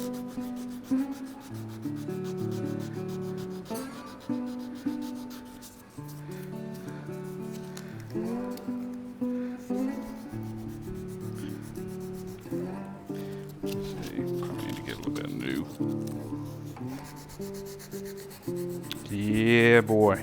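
A belt sander works wooden bushcraft knife scales, its steady loud rubbing grind running nearly continuously with brief dips as the piece is lifted and pressed back, growing harsher near the end.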